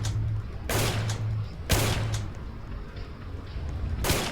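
Gunfire in the video game Fantastic Frontier: a few loud, sharp bursts of shots spaced over a few seconds, each followed by a decaying rumble over steady background game noise.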